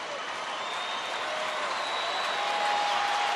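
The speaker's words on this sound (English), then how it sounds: "And again, the crowd, some standing now, getting behind Roy Oswalt" A baseball stadium crowd applauding and cheering for pitcher Roy Oswalt during a Rockies at Rangers game, a steady wash of clapping that swells slightly toward the end.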